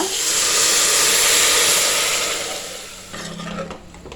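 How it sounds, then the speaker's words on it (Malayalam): Hot water pours and hisses steadily into a hot pan of vegetable pulao for about three seconds, then fades into quieter bubbling and clinks. "വെള്ളം ഒഴിച്ചു കൊടുത്തു."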